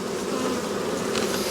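Italian and bush black honey bees swarm around their hives in an Australian bee yard, making a dense, steady buzzing hum that stays close and continuous with no voices.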